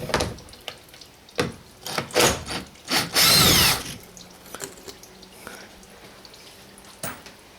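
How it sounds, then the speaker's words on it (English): A power tool undoes the 8mm bolts on a Mercedes A-Class engine cover in several short whirring bursts, one longer loud burst in the middle, then a quiet stretch and a final brief knock, close up with no talking. "So if we just undo these 8mm bolts here"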